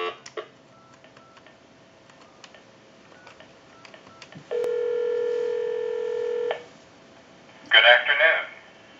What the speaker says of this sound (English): We'll dial our time and temp number.